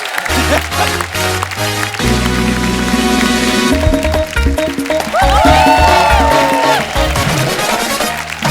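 An audience at a film event claps loudly to welcome directors Gayatri and Pushkar, a dense, steady roar of applause layered under music, with a host's voice cutting in partway through.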